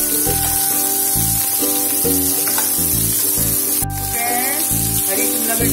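Green capsicum and onions fry in a pan over a full gas flame, giving a steady, continuous sizzle under background music throughout.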